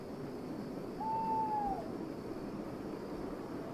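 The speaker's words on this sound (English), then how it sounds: "Oh, an owl." An owl hoots once in the VR game Twin Peaks, a single clear drawn-out call over a steady low ambient hum.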